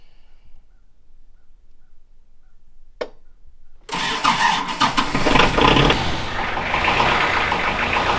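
A tractor fitted with a logging attachment sits quiet, gives a brief click, then its engine catches and settles into a steady, loud idle rumble that continues to the end.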